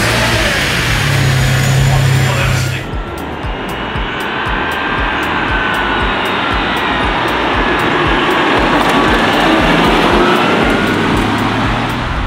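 A Ferrari 550 Barchetta Pininfarina roars loudly while being driven, its engine noise steady and powerful throughout with a brief shift in tone early on.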